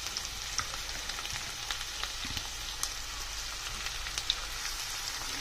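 Two medium onions fry in hot oil, a steady, dense sizzle with scattered pops and crackles running evenly throughout, close and continuous with no voices.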